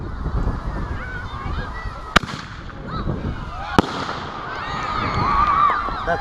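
Consumer fireworks set off outdoors on a slow fuse give two sharp, loud bangs a couple of seconds apart amid steady wind noise and crackling, with whistling trails toward the end and voices talking nearby.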